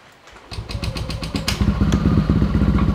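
A motorcycle engine starts up close by and runs with a throaty, uneven rumble that grows louder and rougher over a few seconds.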